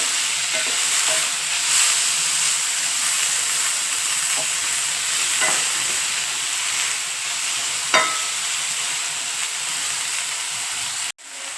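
Onions sautéing in a pan for a hotel-style mushroom masala: a steady close sizzle and hiss throughout, with a few soft scraping stirs and taps, no talking.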